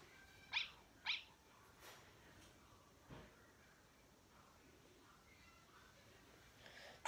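Two short, high dog yips from the video game Undertale come close together near the start, followed by a long quiet stretch with faint clicks and a small burst at the very end.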